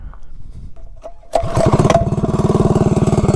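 A Tillotson 212 minibike engine fitted with a Honda CRF carburetor starts after a quiet lead-in, then revs loud and close with a steady, rapid firing pulse while climbing uphill.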